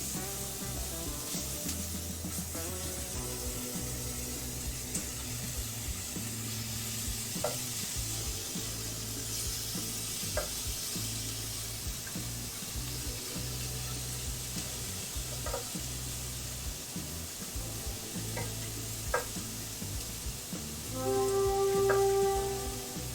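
Beef sears and sizzles steadily in a pan during the last batch, a continuous crackling fry with occasional faint clinks and stirring scrapes, growing slightly louder near the end.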